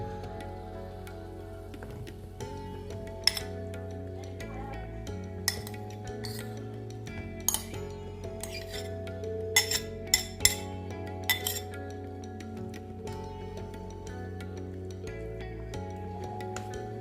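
Pieces of amla (Indian gooseberry) candy tumble into a container, giving scattered light clinks and rattles, mostly faint with a few sharper ticks, over a quiet steady background.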